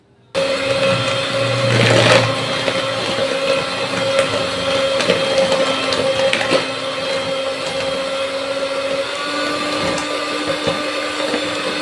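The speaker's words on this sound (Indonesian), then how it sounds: "kalau udah kita campurin telur, gula, SP, sama vanila bubuk, itu kita tinggal mixer aja" Electric mixer beating eggs, sugar, SP emulsifier and vanilla powder for a Christmas log cake: a loud, steady motor whir that starts abruptly and runs unbroken for about eleven seconds, with no speech.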